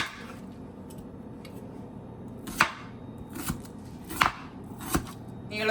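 A knife chops through a large onion on a cutting board in a home kitchen, giving four sharp, separated strikes over a steady low room hum.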